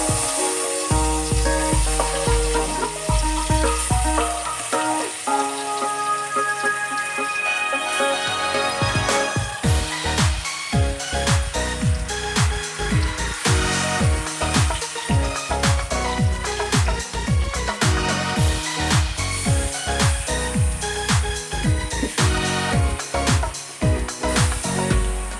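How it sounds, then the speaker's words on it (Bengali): Fish pieces rubbed with turmeric, salt and chili sizzle loudly and continuously in a cooking pot, with frequent sharp crackles and pops close up. "মাছ ফ্রাই করার জন্য দিয়ে দিচ্ছি।"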